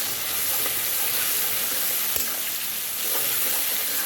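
Shrimp sizzle in hot oil in a cooking pan, a steady, close, dense frying hiss that holds evenly throughout with a few faint crackles and no talking.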